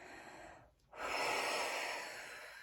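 A person exhales slowly during a yoga stretch, a soft breath that stops briefly and then returns as a long airy outbreath, close and quiet.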